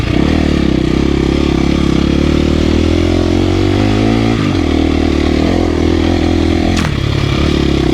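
A dirt motorcycle climbing a black diamond single track at Hollister in third gear, its engine drone loud and close throughout with pitch rising and falling, brush scraping and clatter near the end.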